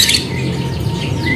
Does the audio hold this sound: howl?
no